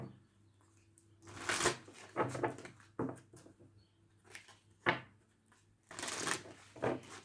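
Tarot cards shuffled close by in a quiet room: a series of crisp riffling bursts, each about a second long, repeating at an uneven pace with short silent gaps between.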